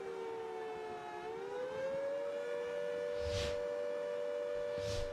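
Civil defense war siren sounding in a mock drill, a steady wailing tone that dips and then holds, heard faintly from a distance with a couple of brief bumps from nearby.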